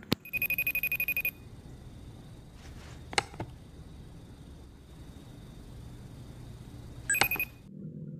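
A telephone rings in short repeated electronic bursts at the start, then falls quiet under faint room noise before a brief final ring near the end, heard alone without talk.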